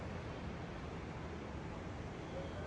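Ocean surf rolling in at Mission Beach, San Diego, a steady broadband wash of waves heard from a hotel balcony above the boardwalk, continuous and fairly faint with no distinct breaks.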